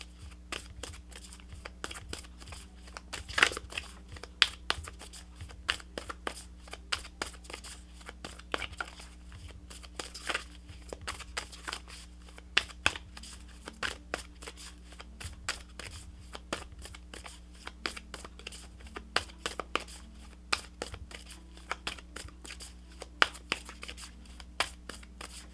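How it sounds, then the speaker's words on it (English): Cards are shuffled repeatedly, quick riffling bursts and soft slaps close by, recurring in an uneven rhythm over a low steady background hum. "If you're not a fan of the shuffling, I do apologize."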